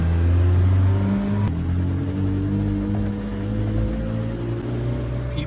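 A McLaren Senna sports car cruises through a traffic circle in Sarasota, its engine a steady low hum and rumble heard from inside the cabin, with a couple of brief clicks and no speech.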